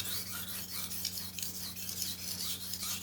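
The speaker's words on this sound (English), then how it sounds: "just a regular sharpening" A knife blade is drawn over a sharpening stone in steady, repeated raspy strokes, up close and fairly quiet over a faint constant hum, with no voices.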